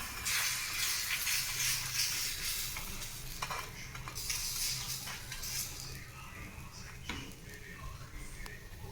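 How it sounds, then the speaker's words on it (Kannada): Dosa batter with mixed-in onion hisses and sizzles steadily on a hot German-made pan as it is poured and spread, with soft scraping, moderately quiet and close, with no talking. "ಈ ಥರ ದೋಸಿ ಹಾಕೊಳ್ಳಿ ಈರುಳ್ಳಿ ಮಿಕ್ಸ್ ಮಾಡಿನಲ್ರಿ"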